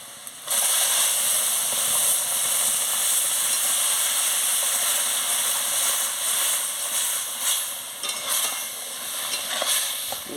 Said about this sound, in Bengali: দেখুন বন্ধুরা এই যে আনাজটা সিদ্ধ করে রেখেছি এটা ঢেলে দিচ্ছি